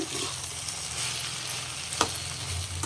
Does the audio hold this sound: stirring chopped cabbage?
yes